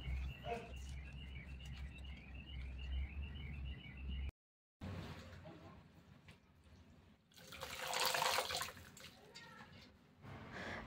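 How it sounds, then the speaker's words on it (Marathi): Fresh coriander leaves are rinsed in water in a wide pan, with soft splashing and a louder burst of running, sloshing water, while birds chirp faintly in the background. "कोथिंबीर चांगले 2-3 पाण्याने स्वच्छ धुवून नितळून ठेवत कोथिंबीर धुवून घ्यायची आहे"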